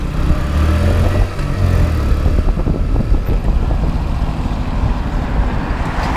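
A motorcycle, a Honda MSX or Yamaha R15, being ridden past a school, with a steady loud engine drone and heavy wind rush on the microphone throughout.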